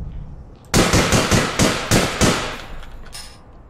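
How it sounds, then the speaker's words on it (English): A Tommy gun in the game APB Reloaded fires a loud burst of about six rapid, evenly spaced shots, followed by a fainter trailing shot and a quiet tail. "Got a f***ing Tommy gun."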